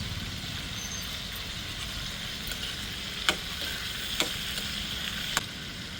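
Tomatoes fry in oil in a pan for a chutney, giving a steady, even sizzle throughout with three soft clicks from a utensil scattered over the last few seconds.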